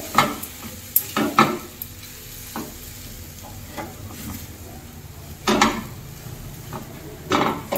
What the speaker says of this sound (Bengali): এর মধ্যে আমি এখন দুধ অ্যাড করে দেব একসঙ্গে, তাহলে ভালোভাবে মিশে যাবে